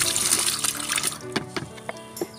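Onion peel liquid fertilizer pours and splashes into a large bucket, a brief burst of sloshing and gurgling that trails off into scattered drips, fairly quiet, with no talking.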